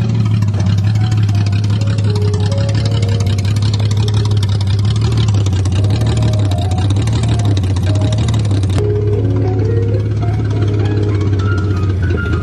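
A 1982 Toyota Cressida engine keeps running with its fuel pump switched off, a steady loud low idle hum with slight wavering in pitch, heard close and alone without talk.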